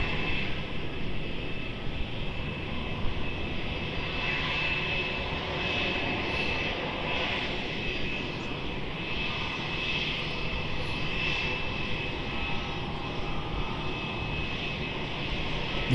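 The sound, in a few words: Malaysia Airlines Airbus A330neo jet engines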